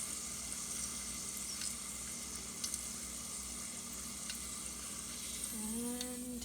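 Chrusciki pastry frying in hot oil, a steady soft sizzle and crackle running throughout, close and even, with a brief higher squeak of movement near the end.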